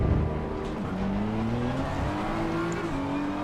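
BMW M4 GT3 race car in Assetto Corsa Competizione at the Nürburgring, its engine starting and revving in rising, steady harmonic sweeps, loud and close with no talk over it.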